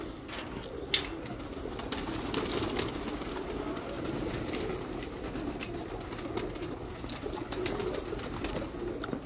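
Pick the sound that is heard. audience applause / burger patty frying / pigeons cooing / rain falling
pigeons cooing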